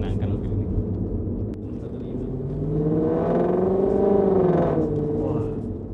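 A V8 swapped into a BMW E30 revs up with a deep rumble that swells, then drops back. People talk over the engine the whole time.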